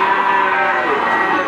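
A breeding cow moos once in a long, loud, sustained call at a cattle market, close and clear, filling the whole moment without talk.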